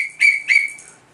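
Two loud, sharp blasts of a lifeguard's whistle in quick succession, the second slightly shorter, followed by a fading tail, with no one talking.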